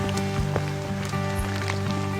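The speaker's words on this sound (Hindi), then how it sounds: "मैं बारिश की बूंदों के अलावा और कोई भी आवाज बिल्कुल सुन नहीं पा रहा हूँ" Rain patters steadily on leaves in a quiet forest, with scattered drops landing close by over a constant low background hum.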